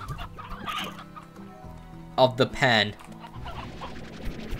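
Chickens in the video game Slime Rancher clucking in a short burst of squawks near the middle, loud and close, between stretches of someone talking quietly over soft background music.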